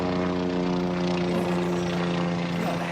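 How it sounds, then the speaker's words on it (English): A helicopter drones steadily and evenly throughout, its rotor hum constant and moderately loud with no voices over it. "yeah, the helicopter."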